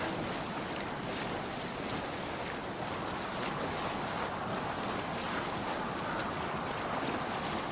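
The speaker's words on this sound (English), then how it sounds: "We're just swimming in this water. Oh, but it's icy cold." Swimming through icy water in the video game Assassin's Creed Valhalla, with a steady broadband wash of water and surf-like noise running throughout, fairly loud and continuous with no voices.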